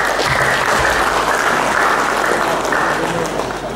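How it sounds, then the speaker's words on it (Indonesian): Loud, dense applause from an audience at a university event inaugurating a Pancasila study centre, steady clapping from many hands filling the room from start to finish with no talk over it. "Tepuk tangan untuk"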